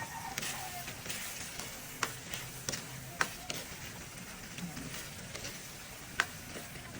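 Pork binagoongan with pineapple chunks cooking in a pan, producing a soft, continuous frying sizzle broken by scattered light clicks and taps from a utensil, quiet and close.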